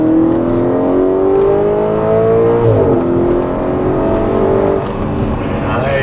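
A 2013 Audi RS5 engine pulls hard through the gears, its rising tone stepping up then dropping at each shift, heard from inside the car with people talking over the smooth, fairly quiet drone.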